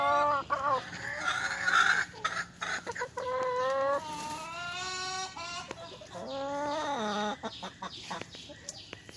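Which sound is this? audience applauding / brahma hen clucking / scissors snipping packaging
brahma hen clucking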